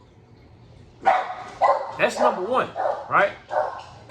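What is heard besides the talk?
dogs barking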